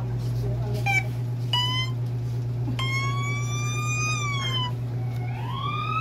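Police car siren wailing over a steady low hum, with several rising and falling sweeps in quick succession, loud and near, in an outdoor street setting.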